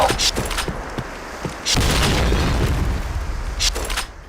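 Grenade blasts in a shooting video game: booming explosions with rumbling tails, one heavy blast partway through and crackling bursts around it, loud and close.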